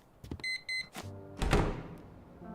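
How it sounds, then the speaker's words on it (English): Electronic beeping in the horror video game Static Dread: The Lighthouse: two short, clear tonal beeps in a row, followed by a heavy low thud that fades out. "What's with the beepity beeping?"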